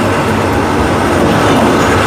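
Thai passenger train 255 on the Thonburi–Lang Suan line runs along, giving a steady, loud rumble and rattling of wagons heard from close by, with no talk.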